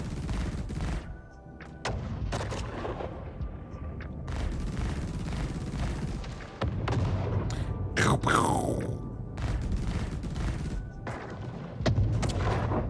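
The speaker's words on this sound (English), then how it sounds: "the explosions, super nice to hear" Explosions and gunfire in a massively multiplayer space game fought partly with lasers, heard as repeated booms and blasts over a steady loud din, with one sharp sweeping burst midway.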